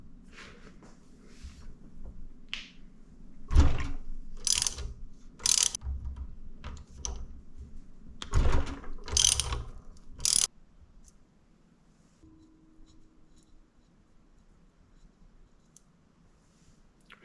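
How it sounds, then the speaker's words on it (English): A ratchet holds the crank on a Honda CRF150R during cam bolt removal, making clusters of close, sharp clicks and metallic ratcheting, loudest in the middle, then fading to quiet. "I'm holding onto the crank with this ratchet back here, and then we can hopefully pop these bolts out."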